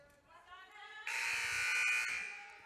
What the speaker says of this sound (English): As we get the starting buzzer from the timeout